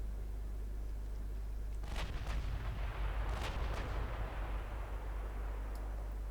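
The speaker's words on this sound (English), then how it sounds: "you are now free to open fire" Warship guns boom across the water in the naval battle game Ultimate Admiral Dreadnoughts, several heavy shots in quick succession over a constant low engine rumble, with no talking.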